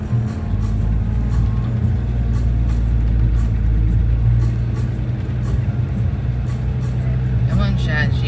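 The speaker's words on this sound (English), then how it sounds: "I'm getting bogged even in four-wheel drive." A four-wheel drive vehicle's engine drones low and steady while it is bogged in soft ground, a continuous rumble under talking inside the cab.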